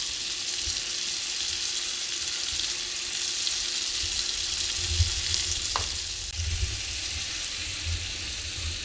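Venison tenderloin steaks sizzling loudly in a hot pan, a dense continuous crackle and hiss up close, with a brief scrape partway through.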